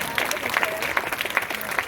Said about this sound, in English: Big round of applause for everyone here.